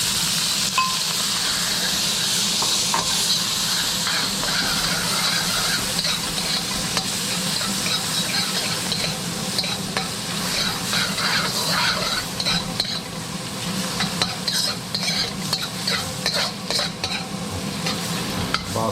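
Shrimp hitting about two tablespoons of oil in a wok on high heat, a loud, continuous close sizzle and hiss with scraping and stirring clinks of a spatula running throughout.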